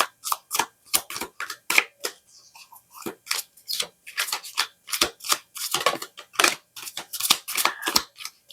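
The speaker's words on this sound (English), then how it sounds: "I know the cards are acting funny about coming out because I'm holding the deck differently" A deck of playing cards is shuffled by hand, a run of sharp riffling flicks and slaps in quick bursts with a short pause, close up, with a few cards slipping out; no speech.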